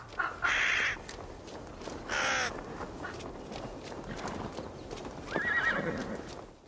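A horse in the video game Assassin's Creed Valhalla gives several loud, close whinnies and neighs over a steady clip-clop of hooves, with crow-like caws mixed in.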